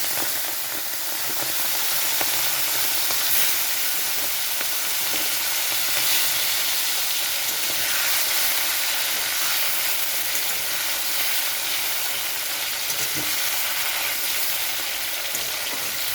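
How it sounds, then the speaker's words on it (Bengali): Shrimp fry in hot mustard oil in a kadai, giving a steady, even sizzle and hiss that carries on without a break, close up and moderately loud with no voices over it. "তো এখানে আমি চিংড়ি মাছগুলো ভেজে নিচ্ছি"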